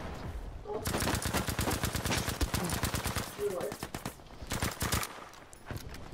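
Rapid machine-gun fire from the Battlefield V video game rattles in dense automatic bursts, loud and close, with a short pause before another volley and a voice faintly beneath.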